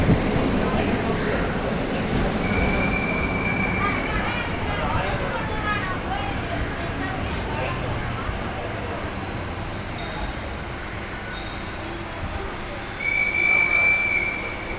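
Suburban train on the Chennai Beach to Velachery line rumbling along with high thin wheel squeals rising over a steady roar, voices faintly beneath.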